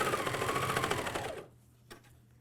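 MyLock 454D serger sewing a neckband onto a pajama top, a fast, steady mechanical whir with rapid needle ticking close by, stopping abruptly, followed by a single faint click in near silence.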